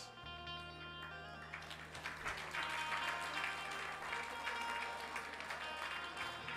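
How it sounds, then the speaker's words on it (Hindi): Broad, steady applause from a crowd at a religious discourse fills the scene, with a low sustained hum running underneath throughout. "तालियां खुशी में बजी हैं।"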